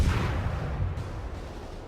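Naval gunfire from the Königsberg in the video game World of Warships, a deep booming shot at the start that rolls off into a low, fading rumble.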